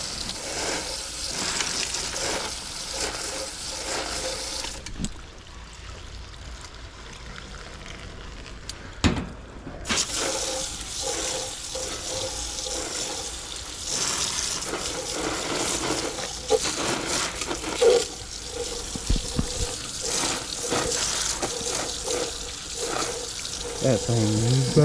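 Water running from a hose at weak, low pressure while rinsing an iced-up coil on a Rheem gas pack HVAC unit, a steady wash of spray that drops out briefly and resumes.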